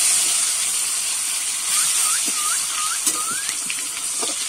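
Chopped tomatoes hit hot oil over a fried spice tempering for prawn malai curry, giving off a steady, loud sizzling hiss that runs through the whole stretch, with a few faint chirps behind it.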